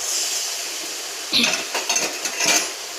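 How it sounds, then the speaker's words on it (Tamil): Crushed turkey berries tip into a metal cooking pan with a scatter of light clinks and rattles, following a brief quiet stretch; close and fairly loud, with no talking. "சுண்டைக்காய் இடித்து வச்சுருக்கேன், இதை கொட்டிங்க"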